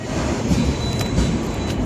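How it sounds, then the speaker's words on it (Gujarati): A train passing at a station in Ujjain, a steady broad rumble with faint wheel clatter and squeal filling the whole stretch, close and continuous. "ટ્રેન જા ચૂકી છે."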